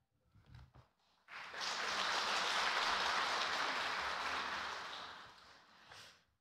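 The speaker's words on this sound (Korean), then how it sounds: "나오실 때 우리 박수로 환영할까요?" A church congregation applauds to welcome the pastor during a Korean worship service, a few scattered claps swelling into a long, dense wash of clapping that fades away after several seconds.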